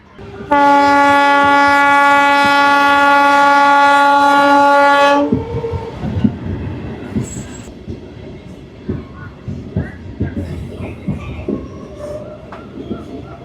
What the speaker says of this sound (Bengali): গোকুলনগর জয়পুর থেকে ট্রেন ছেড়ে দিল